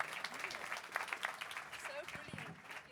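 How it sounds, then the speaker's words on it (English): An audience applauds after a panel discussion at a nature-positive strategy event, faint, distant clapping running under a voice speaking close by. "Big round of applause"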